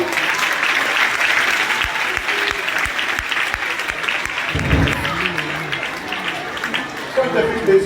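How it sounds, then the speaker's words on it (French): An audience at a Christmas celebration in Duékoué applauds, a dense, steady wash of many hands clapping throughout, with a voice briefly heard over it. "Je souhaite, je demande qu'on l'applaudisse."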